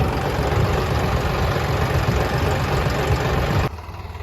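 A Swaraj tractor engine idles in a farm field with a loud, steady, low diesel rumble that cuts off abruptly near the end, leaving quieter background.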